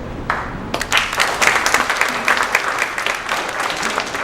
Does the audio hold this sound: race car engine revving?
no